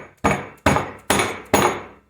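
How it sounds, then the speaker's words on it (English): Four firm, evenly spaced taps from a rubber mallet driving a crank bearing into place against its dowel pin, each a dull close thump with a short ring, no voices. "I'm just going to get a rubber mallet and this tap on it."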